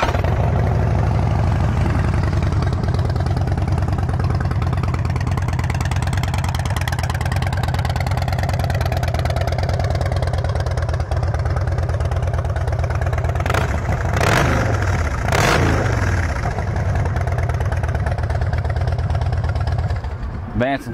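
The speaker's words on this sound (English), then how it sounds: "Vance and Hines exhaust sounds real good on this bike." Steady Harley-Davidson Street Bob FXDB engine rumble through a Vance and Hines aftermarket exhaust throughout, mostly idling with a few sharp throttle blips near the end, under someone talking.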